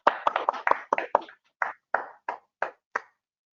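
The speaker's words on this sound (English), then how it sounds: "A big round of applause for them." Sparse, uneven clapping at an engineering competition awards ceremony for a cycle design event, a burst of quick claps in the first second and a half thinning into a few separate slaps, fairly close with no voices.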